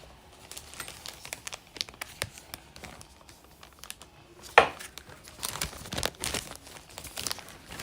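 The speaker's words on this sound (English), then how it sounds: "And I just cut like a Ziploc bag and put this in it." Thin plastic of a cut Ziploc bag crinkles and rustles in close, scattered bursts while peach whipped body butter is spooned into it, with a sharper crunch near the middle and denser crackling toward the end.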